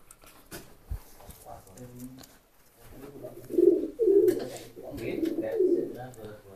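Racing pigeons coo in a loft: soft, repeated throaty coos that grow louder midway, mixed with people talking nearby.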